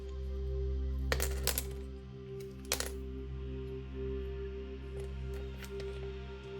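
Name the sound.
runes and dice being cast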